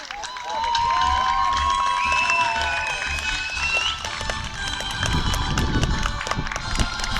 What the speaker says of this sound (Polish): Powitajmy obydwa zespoły w tym momencie, słuchajcie, gorące brawa!